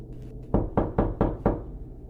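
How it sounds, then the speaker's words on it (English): Five firm, evenly spaced knocks on a door, close and loud with a short booming decay, standing alone against a quiet background. "The knock started again just after midnight. 3 slow, deliberate raps."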